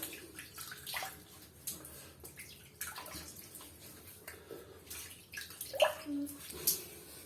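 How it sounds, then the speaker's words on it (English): Warm water splashed onto a face during a wet shave to rinse it off, heard as irregular soft splashing and dripping with a faint faucet-like trickle, fairly close and quiet. "Get some nice warm water on your face again to wash it off."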